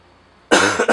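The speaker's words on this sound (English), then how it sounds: "Can't stop coughing." In a workshop, a close, loud burst of coughing starts halfway through, two or three harsh hacks in quick succession after a near-silent start.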